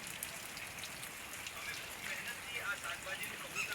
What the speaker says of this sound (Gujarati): અટાણે વરસાદ ચાલુ છે